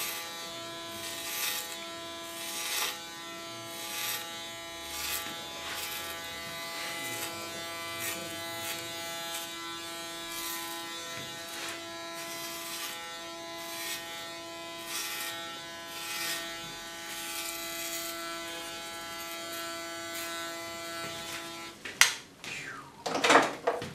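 Electric hair clippers buzz steadily and close while cutting short hair in a salon, a continuous motor hum with small shifts in tone as the blades move, ending in a few sharper louder sounds.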